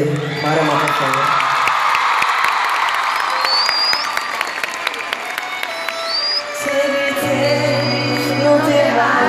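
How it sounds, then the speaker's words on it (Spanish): A lively crowd applauds and cheers for a group of string players, dense clapping mixed with whoops and shouts, with bright sustained string and vocal tones threading through near the end. "El aplauso para las cuerdas de Mara Mahajan."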